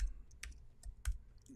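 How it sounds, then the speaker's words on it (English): Typing on a computer keyboard: a few sparse, quiet key clicks spaced irregularly over a faint background. "I'll type that in here."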